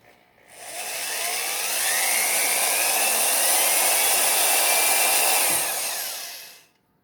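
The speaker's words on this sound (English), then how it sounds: "I'm using a different drill, one with a keyed chuck." An electric drill with a keyed chuck boring into metal on a lathe, a loud steady whine that spins up, holds for several seconds, then winds down.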